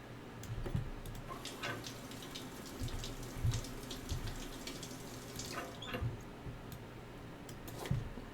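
Shower water running steadily in the space-survival game Stationeers, a continuous hiss with faint clicks and taps scattered over it, fairly quiet and heard alone.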